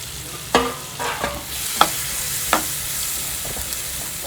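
Onion, carrot and green chili sauté in salted butter for fried rice, with a soft constant sizzle and several distinct spatula knocks and scrapes against the pan at irregular intervals.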